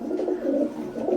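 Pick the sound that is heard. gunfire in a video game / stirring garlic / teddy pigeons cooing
teddy pigeons cooing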